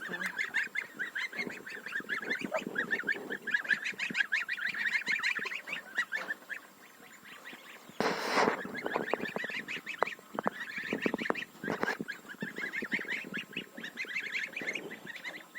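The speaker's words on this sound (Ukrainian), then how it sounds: "Вона висиділа гусенят." A flock of geese honking continuously in a Ukrainian village farmyard, many overlapping calls close by, with a louder burst of honks midway through.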